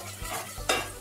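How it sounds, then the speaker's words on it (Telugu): Tomatoes and green chillies fry in a pan while a spoon stirs them, giving a steady close sizzle with two scraping strokes, the second louder, and no voices. "టమాటా పచ్చిమిర్చి 2 వేసేసి టమాటాలు మెత్తగా అయ్యేంత వరకు తిప్పుదాం"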